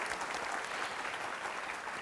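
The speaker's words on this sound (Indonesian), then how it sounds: "Kita berikan tepuk tangan." Studio audience applause on an Indonesian talk show, a steady wash of many hands clapping, fairly faint and unbroken for the whole stretch.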